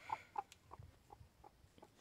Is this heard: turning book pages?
no